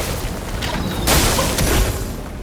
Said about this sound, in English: Let's do some explosions.